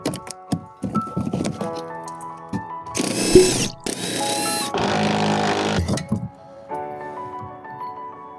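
A power tool works on a seized bolt during a lowering-spring install on an Audi A4, giving three loud bursts in quick succession with ratcheting clicks before and after.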